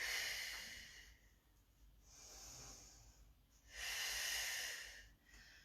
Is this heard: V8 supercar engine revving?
no